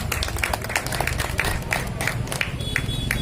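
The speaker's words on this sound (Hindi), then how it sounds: "जोरदार जरा तालियां बना दें।" Audience at a community gathering applauding, a dense crowd of clapping with some louder individual claps standing out, held steady at moderate volume throughout.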